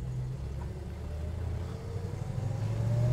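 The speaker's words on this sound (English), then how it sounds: "Get to go shifting gears again." A 1958 Chevrolet Apache pickup truck engine drones low and steady while shifting through gears, the pitch dipping at the change and then climbing as it pulls away and grows louder.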